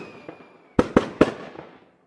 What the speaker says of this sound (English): Fireworks. It is fireworks.